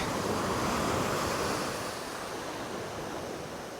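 Calm sea waves wash steadily onto the beach at Nerja, a broad, continuous surf hiss close by with a slight gust of wind noise and a gentle easing in loudness toward the end.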